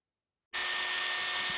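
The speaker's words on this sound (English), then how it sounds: "Drill it out until the head pops off." A power drill kicks in abruptly after a moment of silence and whirs at a steady, high pitch nearby, drilling out a rivet head on a US General toolbox drawer lock.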